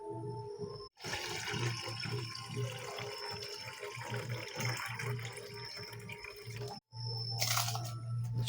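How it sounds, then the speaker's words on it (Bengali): Water from rinsed rice being poured off into a sink, a steady splashing gush running nearly continuously, broken by two short pauses, close and fairly loud, with no talk. "জলটা ফেলে দিন।"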